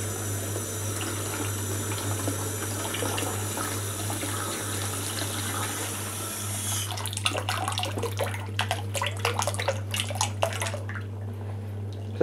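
Hot water runs from a tap in a continuous rushing stream over a steady low hum. It then breaks into an uneven splashing as something is held under the flow.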